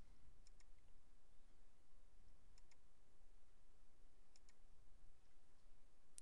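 Computer mouse clicks while working in Microsoft Word 2007, a few faint, sharp clicks in small pairs over a quiet steady background hiss, with no talking.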